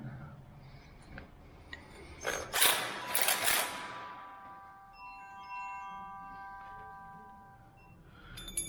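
Wood screws being driven into metal by a power driver, a grinding ratcheting burst followed by a fading high ringing tone, fairly faint and close.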